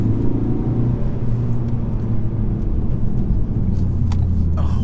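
A 2016 Ford Focus ST-3 diesel drives with a steady, loud engine rumble and low whir, heard from inside, with no talking.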